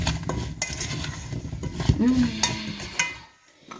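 A utensil scrapes and clinks busily against a bowl while mixing salt and pepper in a home kitchen, with rapid close stirring and a brief voice in the background.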